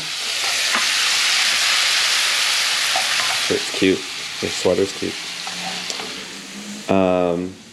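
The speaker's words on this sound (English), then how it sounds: "He is stir frying kimchi right now." Steady loud sizzling of kimchi stir-frying in a pan, with brief voices chatting over it and a short burst of other noise near the end.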